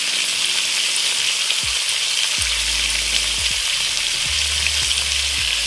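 Potato, eggplant and spinach stems with salt and turmeric fry loudly in a pan, a dense continuous sizzle broken by several dull knocks and scrapes of stirring.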